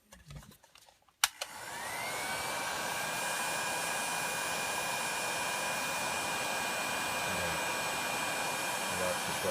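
A hot-air heat gun warms a late-1930s paper capacitor for restuffing. A short click and rustle come first, then the blower starts with a rising whine and settles into a loud, steady, close whoosh.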